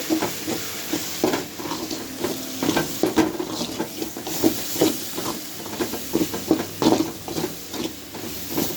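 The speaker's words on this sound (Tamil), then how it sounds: "இதெல்லாத்தையும் நம்ம இதில் சேர்த்து நல்லா கலந்து" Fish curry masala and chili powder are stirred together in a pot, giving rhythmic scraping strokes over a steady sizzle, close and continuous.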